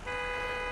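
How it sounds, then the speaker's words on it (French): A car horn in the Food Truck Simulator video game sounds an old-fashioned, 1930s-style honk, one steady sustained toot held loud and close for under a second. "On est l'autre qui klaxonne avec son tut-tut là."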